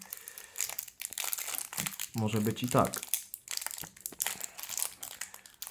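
Crisp crinkling and rustling of plastic sachet packets of FIFA World Cup Russia 2018 stickers being opened, close and busy throughout, with a short spoken phrase in Polish in the middle.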